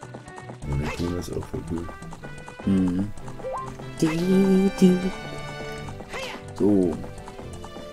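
Rhythmic hoofbeats of a horse in Zelda: Ocarina of Time clip-clop at a quick pace under speech from a man, with game music playing and an occasional horse whinny.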